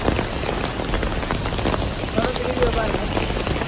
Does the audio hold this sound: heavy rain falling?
yes